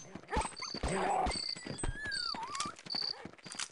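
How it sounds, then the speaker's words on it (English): Dogs in the video game They Hunger bark and whine in a noisy game scene with clattering effects and a rising electronic tone, several bursts spread across a few seconds. "That's what that barking noise was."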